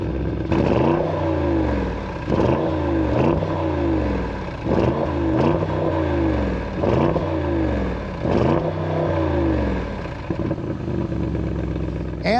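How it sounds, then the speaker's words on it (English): The 4-liter twin-turbo V8 of a 2023 Audi RS Q8 runs close by, its deep rumble rising and falling in a steady series of repeated revs. "This is a 4-liter twin turbo V8. So let's go ahead and fire it up."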